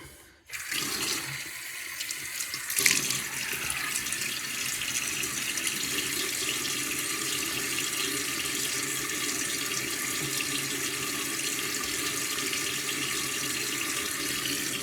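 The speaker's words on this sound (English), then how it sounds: "Let me get my face wet." A bathroom faucet runs steadily for the whole stretch while a face is wetted before a shave with a safety razor, a constant close hiss of water with a brief clunk at the start and no talking.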